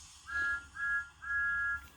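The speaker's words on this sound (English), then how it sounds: "He blew his whistle." Cartoon steam engine whistle from a Thomas and Friends story, three clear sustained toots in a row, moderately loud over a quiet background with no voices.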